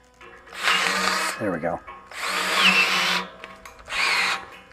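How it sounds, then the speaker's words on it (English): A power drill fastens frame-mounted rock sliders onto a Jeep JLU, whirring loudly in three separate bursts with short pauses between them, close by, while a person speaks briefly. "This drill's a little haggard."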